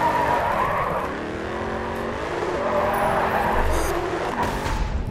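A car drifting with squealing tires in the Grid 2 racing game, a sustained engine drone with long wavering tire screech that swells and fades over several seconds, loud and close, ending with a low rumble.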